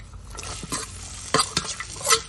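Thin slices of ginger, about 125 grams, go into hot oil for an Indian ginger curry, giving a steady sizzle broken by several scraping stirs of a spoon in the pan. It is close and moderately loud, with no talking.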